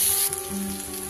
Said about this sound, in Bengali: খুব সুন্দর করে মশলাটা আমার কষানো হয়ে গেছে, টমেটোগুলোও গলে গেছে